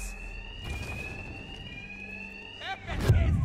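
An alarm in Batman: Arkham Knight rings through a bank robbery scene as a sustained high electronic tone, joined by a short swept electronic sound near the end and low impacts and rumble at the close, with no talk.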